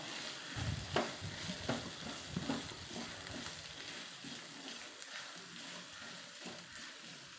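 Ginger, garlic and onion with a pinch of salt fry in a pan for a potato and egg curry. A spoon scrapes and stirs in bursts early on, then a soft, quiet sizzle continues with no talk.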